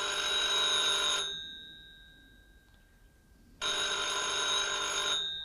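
A telephone rings with a loud, bright electric bell, one long burst, a pause of silence, then a second burst; no one speaks.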